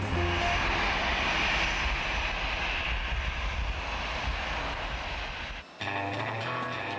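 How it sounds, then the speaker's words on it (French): A Boeing 777 airliner's engines roar in a loud, dense, continuous drone with a high whine, heard inside the aircraft; near the end the sound cuts briefly and resumes with a changed tone. "Aujourd'hui, départ pour Shanghai, à bord d'un 777, la perle des Boeing."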